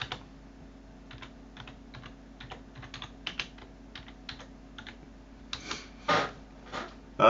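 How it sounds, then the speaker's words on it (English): Light, irregular clicking of keys on a computer keyboard, soft taps at first and then a few louder, closer keystrokes near the end, with no speech. "So the first thing you want to do is type in"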